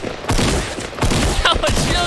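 A rapid burst of Fortnite gunfire, loud and close, rattles in quick repeated shots across two seconds with no one speaking.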